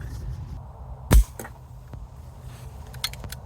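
An air rifle fitted with a PRS scope fires a single sharp crack at a 40-yard outdoor target, followed by a faint click and light ambient noise.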